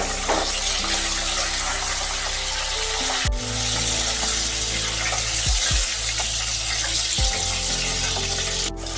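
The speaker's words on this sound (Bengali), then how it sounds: "নুন মাখানো মাছগুলো আমি এবার একটু ভেজে নেব।" Salted katla fish pieces frying in a mix of oil and ghee, a steady loud sizzle filling the whole stretch with a few brief sharp crackles and pops.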